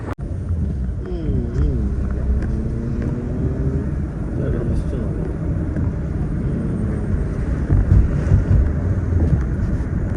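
A car driven by a first-time driver, its engine droning and rising in pitch as it accelerates through the gears, heard from inside the cabin with wind noise and people talking.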